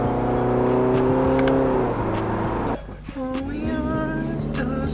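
Subaru Crosstrek fitted with an aftermarket exhaust accelerating in third gear, a loud rising drone with clear climbing engine tones, then a brief dip as revs drop before pulling again.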